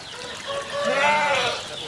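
Kacang goats in Sleman, Yogyakarta bleat in a continuous, nasal, wavering call, fairly loud and close, over a steady background hiss with no talking.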